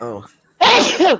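A single sharp, loud sneeze right after a brief spoken exclamation, close to the microphone.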